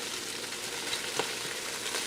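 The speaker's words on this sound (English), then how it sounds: "I'm going to give this a good stir" Chopped onions sizzle and fry in a pressure cooker pot as they are stirred, a steady close hiss with a faint scrape of the spoon and no talking.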